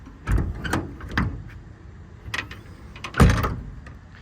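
Several short metallic slides and clunks close by from metal drawers on a Ford F550 service truck, with quiet gaps between them, ending in a firmer latching knock.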